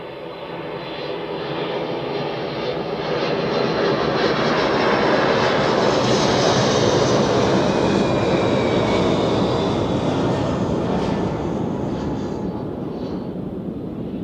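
A heavy airliner lands on runway 14 at Zurich Airport, its engine roar swelling into a broad, sustained rumble that peaks midway and slowly eases, loud and steady with no voices.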